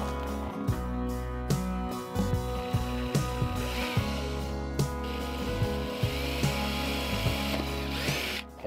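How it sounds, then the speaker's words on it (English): A power drill whines steadily with repeated short bursts and catches as it bores through a travel trailer wall, close and continuous with no talking. "you definitely want to be careful drilling through"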